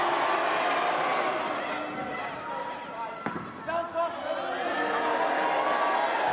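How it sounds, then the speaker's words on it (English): Wrestling crowd at a live show in Belfast, split in support between Jody Fleisch and Alberto El Patron, a constant distant roar of cheering and chanting with a single sharp slam partway through. "the crowd fairly split here between Jody Fleisch and Alberto El Patron"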